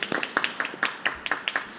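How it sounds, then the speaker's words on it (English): Scattered handclaps from a small audience at a mayoral and district candidate forum in West Pasadena, a few sharp claps in uneven rhythm rather than full applause, fairly close and moderately loud. "You really deserve a round of applause from us."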